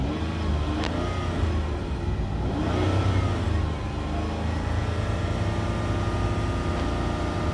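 A 2007 Ford Escape XLT engine held at roughly 3,500 RPM, a steady close mid-pitched drone with a slight swell in the middle and no talking.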